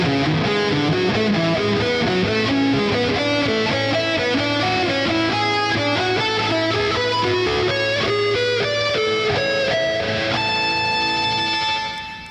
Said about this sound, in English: we're going to do an exercise of arpeggio